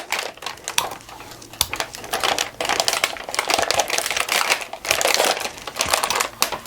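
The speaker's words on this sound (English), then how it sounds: "we're gonna wanna tape once again where we cut it." Tape is pulled, torn and pressed over sublimation paper wrapped around a mug, giving close, crinkly rips and crackling paper handling in irregular bursts.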